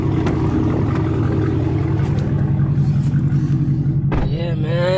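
A Chevrolet Camaro ZL1 rumbles along a street with a deep, pulsing engine drone close by, holding steady for several seconds before a brief sharp rise near the end.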